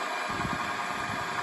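A DC shunt motor running steadily on a test bench with armature current speed control, giving a continuous even hum and whir with a faint low rumble, alone without talk.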